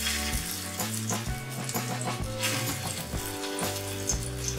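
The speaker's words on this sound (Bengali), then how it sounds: "2 টেবিল স্পুন তেলের মধ্যে এটা ভেজে নেব" Raw banana chops fry steadily in two tablespoons of oil over medium flame, a continuous close sizzle with faint crackles and no voices.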